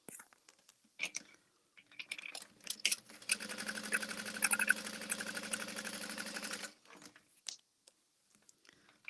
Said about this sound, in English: So I'm just top stitching the strap connectors at 1/4 inch.